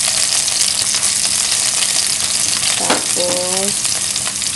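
Garlic sizzles loudly and continuously as it fries in a pan for squid adobo, with a brief stirring scrape and a short voice near the end.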